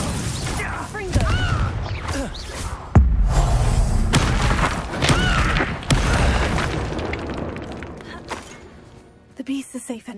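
Loud blasts and heavy thuds of the Confringo fire-explosion spell burst through a busy Hogwarts Legacy fight, repeated booms and crackles layered with shouted voices and game music throughout.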